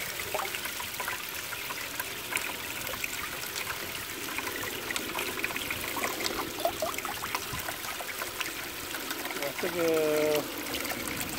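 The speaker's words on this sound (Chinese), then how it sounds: "然后呢， 就给它加水稀释。" Water running steadily into an 8-gallon bucket to dilute a mixture outdoors, a continuous splashing trickle throughout, with a brief voice near the end.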